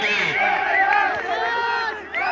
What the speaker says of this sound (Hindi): ड्रेसिंग रूम में तालियों की गड़गड़ाहट और खुशी की लहर है